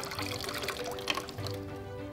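Water poured from a bucket into a drinking glass, a short steady stream and trickle with no talking.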